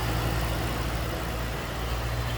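A 2008 Ford Shelby GT Mustang with a Ford Racing cold air intake idles steadily, a low, even engine rumble heard up close without talking.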